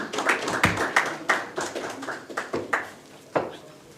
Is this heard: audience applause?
yes